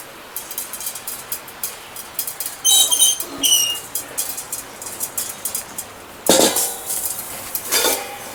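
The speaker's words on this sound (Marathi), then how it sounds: "तर आता तीळ भाजून घेऊया" Sesame seeds roast in a covered metal pan, popping and pattering against the lid in scattered ticks, with a few louder clanks of the lid and utensils.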